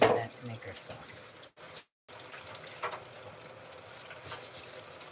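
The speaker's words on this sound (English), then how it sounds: "now let me wash my hands." Hands being washed under a running kitchen tap, a faint, steady flow of water with light rubbing and splashing, broken by a brief silent gap.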